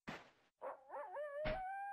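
Dogs in the video game SurvivalCraft bark twice, then let out a rising, wavering whine, close and clear against silence.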